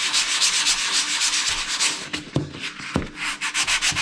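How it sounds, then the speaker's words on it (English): Light hand sanding of a dry patched spot on a bathroom wall, a steady scratchy back-and-forth rubbing that is close and continuous, with a few small knocks near the end and no talking. "I'm just gonna lightly sand it out"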